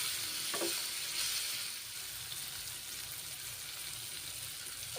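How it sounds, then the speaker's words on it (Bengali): A little water is added to frying carrots and ridge gourd cooked with masoor dal, giving a soft, continuous sizzle with a brief scrape early on and no voices. "এখন সামান্য জল দিচ্ছি জল দিলাম"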